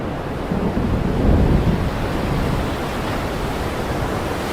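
Heavy ocean surf roars under howling wind at a storm-battered island coast, a loud and continuous rumbling wash that swells slightly before settling into a steady blustery hiss.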